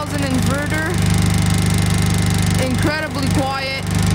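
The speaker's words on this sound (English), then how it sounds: "So here's our Honda generator. It's a little Honda EU 2000 inverter." Honda EU2000 inverter generator idling in eco mode near a chalet, a steady, even engine drone with a pulsing low hum, heard up close under someone talking.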